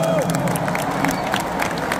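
Large crowd at a concert at Jakarta International Stadium applauding and cheering in a dense, steady wash, with a voice speaking over the noise.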